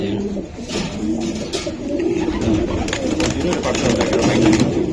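Racing pigeons coo softly and repeatedly close by while being handled, the low burbling calls continuing under faint background noise.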